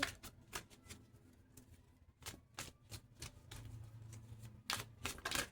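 Tarot cards being shuffled by hand, a run of crisp riffling snaps and flutters in irregular bursts, close and fairly quiet with short pauses between.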